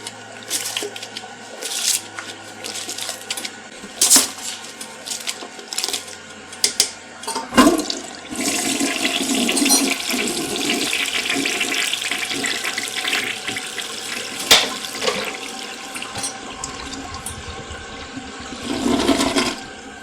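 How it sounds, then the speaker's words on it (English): A toilet flushes up close after its bowl has been cleaned of stubborn brown stains, with scattered knocks and clatter at first, then a long rushing swirl of water that drains and refills steadily, with no talking. "I'm gonna flush it one more time."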